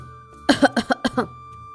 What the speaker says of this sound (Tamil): அப்போ உள்ள இருந்து மாமியாரோட இருமல் சத்தம் அவளுக்கு கேட்டுச்சு